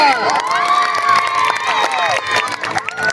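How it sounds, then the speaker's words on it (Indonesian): Audience at a school scout fashion show applauding and cheering loudly, a sustained roar of shouting and whooping voices with claps running underneath throughout. "Beri tepuk tangan yang meriah untuk sang Luhur Rimba"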